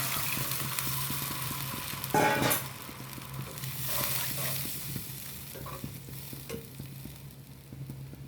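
Water poured into a hot pan of Assamese-style fish curry sets off a sizzle, with a sharp burst around two seconds that settles into a steady bubbling hiss with faint stirring, close by and alone.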